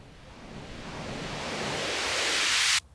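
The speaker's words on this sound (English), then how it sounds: "We have a riser effect." A white noise riser sample from Ableton's library swells steadily in a bright, hissing sweep for under three seconds, then cuts off abruptly.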